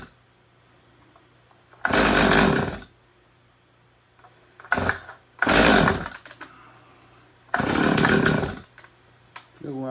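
Stihl MS250 chainsaw with a broken pull rope, revved in short bursts: four loud, harsh blips of a second or less over a faint idle, close by.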